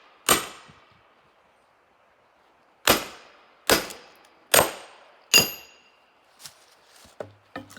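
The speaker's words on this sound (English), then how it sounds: "you use your sledge again, and you just tap it into wood" A sledgehammer strikes a steel splitting wedge into firewood, five sharp ringing metallic blows with pauses between, loud and close, followed by a few fainter knocks and clatter.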